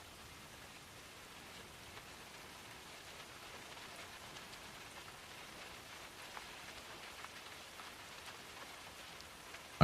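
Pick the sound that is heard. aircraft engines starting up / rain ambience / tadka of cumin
rain ambience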